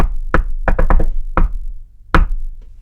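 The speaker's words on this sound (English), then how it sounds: "A long series of knocks to the rhythm of Hamilton's My Shot broke the white noise of our low-volume TV" A rhythmic series of firm knocks on a door, sharp and close, falls in quick uneven clusters with a pause before one last rap.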